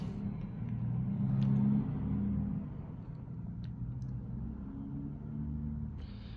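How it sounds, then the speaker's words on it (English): Traffic rumbles steadily outside a house, a low continuous drone of passing cars with a slight swell early on, heard at a distance without any talk. "There's a lot of traffic outside my house right now."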